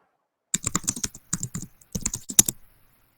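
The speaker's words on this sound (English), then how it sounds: "Now just type git status." Someone types a git status command on a computer keyboard, a close, crisp flurry of keystrokes in two quick bursts separated by a brief pause, with silence before and after.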